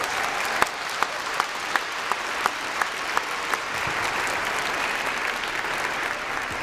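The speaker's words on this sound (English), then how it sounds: "would you please join me in a warm round of applause for our 4th grade concert choir?" School winter concert audience applauding a 4th grade choir, warm sustained clapping in a hall with a few sharper individual claps standing out at a steady pace.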